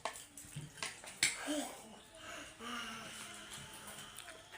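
Water poured by hand at a seashore outing, a splashing, trickling stream with a few sharp splashes, heard close under scattered voices of adults and a child.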